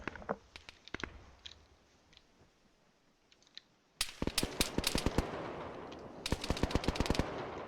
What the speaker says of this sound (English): Both sides just taking AI fire